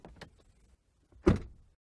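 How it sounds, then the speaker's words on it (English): An Audi car door shuts with a single solid thud during acoustic testing, preceded by faint handling noises, close and otherwise quiet. "The evaluation of short, more complex sound events, such as the closing of a car door, requires a keen ear and all the expertise of an acoustics engineer."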